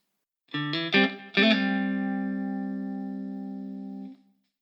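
Electric guitar lick, a few quick picked and hammered notes and double stops followed by a chord that rings out clean and loud for about three seconds before stopping.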